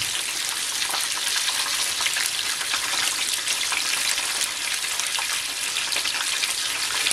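Cod pieces frying in a generous amount of oil give a loud, steady, dense sizzle with fine crackling and popping that holds unbroken throughout, with no voices.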